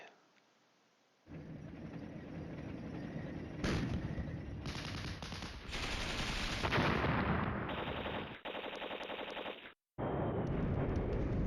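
Artillery fire in the Flashpoint Campaigns: Red Storm war game, loud sustained rumbling barrages and rapid bursts of explosions that cut off abruptly between volleys.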